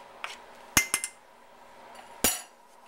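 Utensil clinking against a pot while stirring a flour mixture for creamy crab and potato soup: a few sharp metallic taps and scrapes, close and moderately loud, with quiet gaps between them.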